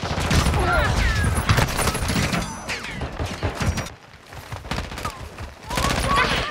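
Dense, rapid gunfire crackles nonstop with bursts and booms in Call of Duty: Modern Warfare II multiplayer on the Shipment map, briefly thinning out before intensifying again; voices shout underneath.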